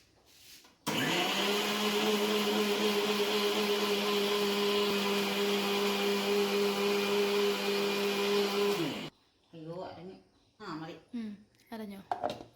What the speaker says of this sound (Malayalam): മിക്സിയിലാണ് നമ്മൾ അരയ്ക്കുന്നത്